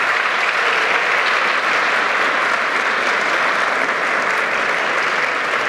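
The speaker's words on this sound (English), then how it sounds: "Round of applause for Charles Pearce." A corporate event audience gives a speaker steady, dense applause that holds at an even level throughout, with no talking over it.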